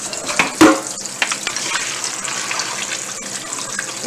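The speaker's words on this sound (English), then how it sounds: "we're going to drain the pasta" Hot pasta water poured off to drain in a kitchen sink, a steady gushing rush with a few splashes and clatters, close and fairly loud throughout.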